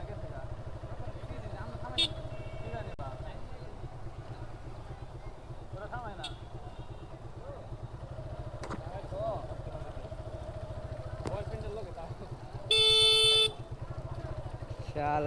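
Motorcycles ride into a ferry ghat at Mawa amid a steady engine drone, with a sharp horn blast near the end and a few brief honks earlier, while people talk over the busy scene.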